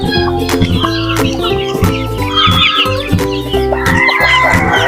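Native chickens with chicks cluck, peep and chatter continuously at close range, with a rooster-like call and scattered sharp knocks in a busy farmyard.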